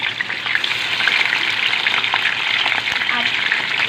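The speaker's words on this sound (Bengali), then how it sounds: "এখন দিয়ে দিচ্ছি চিকেন, হালকা আঁচে ভেজে নিতে হবে।" Chicken frying over low heat in a pan for a homemade roast: a steady, dense sizzle with occasional crackles and light stirring, close and continuous throughout.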